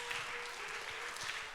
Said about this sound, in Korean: 모두 박수로 환영해주세요